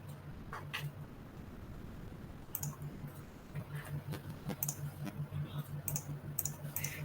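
A computer mouse clicks repeatedly while working in Figma, crisp close clicks spaced irregularly at first, then coming in a quicker run, with no talk over them.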